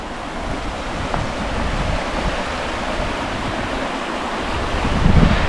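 The Guadalevín river flows steadily near the Tajo gorge of Ronda, giving a continuous broad rushing wash of water that swells slightly toward the end, with no voices.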